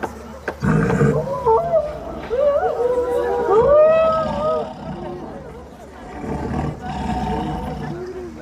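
A tiger roar performed in a school annual-function stage play, loud and sustained with rising and falling growls over several seconds, heard amid crowd babble and voices in a hall.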